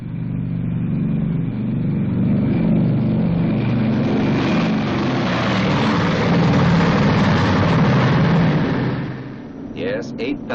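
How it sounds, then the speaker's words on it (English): The four Wright 3350 radial engines of a B-29 Superfortress run together with a loud, close, continuous propeller drone that swells slightly and then eases near the end. A voice speaks over it. "And those are its 4 Wright 3350 engines."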